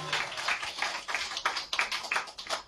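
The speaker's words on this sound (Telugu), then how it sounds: "చప్పట్లు కొట్టి స్తోత్రం చెప్పండి." A church congregation at Sunday worship claps hands in praise, a steady, fairly quick rhythm of overlapping claps throughout, moderately loud and without talk.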